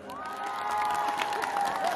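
Crowd at the historic Tatopani fair applauds and cheers for a singer, a sustained mass of clapping with shouts and whoops, children's voices mixed in, and a loud voice or music tone running over it.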